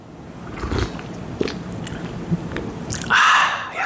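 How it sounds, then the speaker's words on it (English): Sipping hot coffee from a Yeti cup close to the mic, with soft wet slurps and small clicks, then a louder, sharper slurp toward the end. "I'm going to have my first sip of coffee for the day, and hopefully you can hear the entire process of it"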